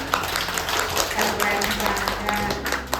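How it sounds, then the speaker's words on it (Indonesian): An audience at a women's program supervision forum in an ecotourism village claps briefly, moderately loud, with a low hum and some background murmur under the clapping. "Boleh tepuk tangan untuk umumnya"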